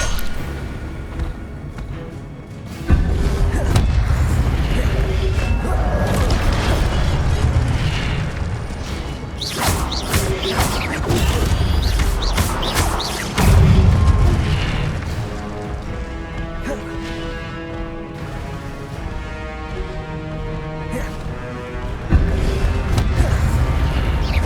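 Incendio fire spell cast in Hogwarts Legacy, a dense game soundscape of repeated booming blasts and crackling bursts layered over music, loud and continuous with sharp impacts near the start, middle and end.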